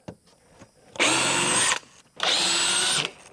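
A power drill runs in two sustained bursts, about a second each, backing screws out while fitting a flush-mounted door; close and loud, with quiet gaps and light handling noise between.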